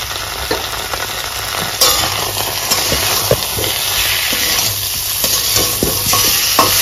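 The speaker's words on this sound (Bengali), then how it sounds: "খুব ভালো করে এবার সমস্ত মশলাকে কষে নেব" Spice paste being sautéed in a pan for a Bengali jackfruit and prawn curry, a steady loud sizzle with frequent stirring scrapes over medium-high heat, continuous throughout with no talking.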